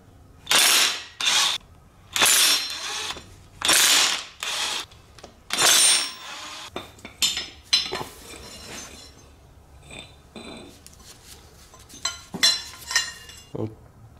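A rotor is unbolted from the axle of a Can-Am Outlander 400 ATV with a ratchet on 13 mm bolts, heard as repeated loud bursts of rapid ratchet clicking followed by metallic clinks and handling of parts.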